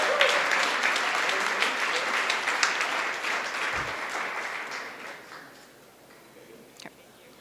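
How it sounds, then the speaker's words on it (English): A meeting-hall audience at an awards gathering breaks into sustained applause, loud and dense at first, then thinning and fading into scattered claps. "It's okay to clap."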